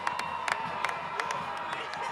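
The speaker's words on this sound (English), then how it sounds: "washed over by the cheers of the Titan crowd, far sideline" High school football crowd on the Titan side cheering after a touchdown at a Turkey Bowl game, a sustained distant roar with sharp claps and shouts popping out repeatedly.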